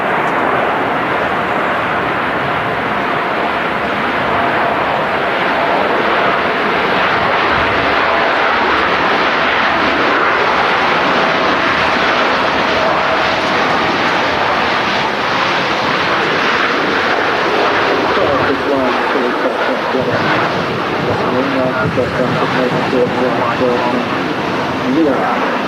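An aircraft at Manchester Airport roars with a steady broadband engine rumble and rush across the whole stretch, loud and sustained, with people talking over it.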